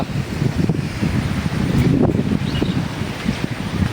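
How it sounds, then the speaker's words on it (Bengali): Stormy wind on a rainy morning roars and buffets in a steady low rumble, with gusts swelling and easing throughout. "ঝড়ো বাতাস শুরু হয়ে গেছে"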